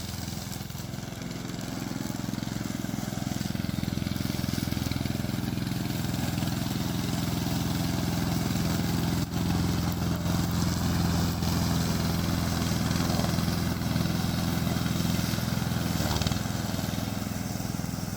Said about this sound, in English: We mainly produce remote control lawn mower in China